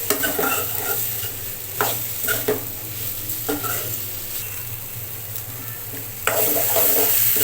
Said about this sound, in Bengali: এখন মশলা এবং আলুর সঙ্গে কাঁঠালটাকে ভালো করে মিক্স করব এবং আরও একটু কষাতে হবে সব কিছু মিলিয়ে